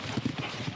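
A racehorse's hooves clip-clop at Caulfield racecourse on Caulfield Guineas day, a quick series of close, muffled thuds over a busy background.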